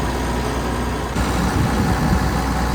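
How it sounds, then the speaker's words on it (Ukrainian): The heavy diesel engine of a John Deere 1166 SII combine harvester idles nearby, a steady low rumble that grows slightly rougher and louder partway through. "Дуже гарна робота двигуна."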